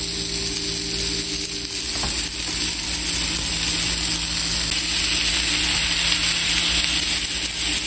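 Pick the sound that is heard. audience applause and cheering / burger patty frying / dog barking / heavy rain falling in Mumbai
burger patty frying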